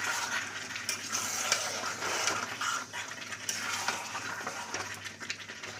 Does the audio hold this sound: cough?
no